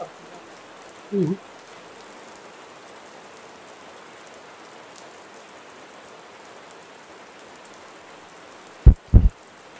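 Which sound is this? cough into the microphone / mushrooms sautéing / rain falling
rain falling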